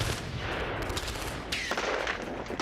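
Sustained gunfire between the Israeli army and Hamas in Khan Younis, southern Gaza, a dense continuous crackle of rapid shots filling the whole stretch without pause.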